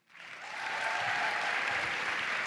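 Theatre audience at a Sicilian Tenors evening breaks into applause, rising quickly from silence into a dense, steady wash of many hands clapping that holds at full strength, with no voices over it.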